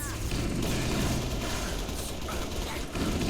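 Rapid rifle gunfire in the video game Halo Reach, loud, dense bursts of shots crackling continuously over busy game effects.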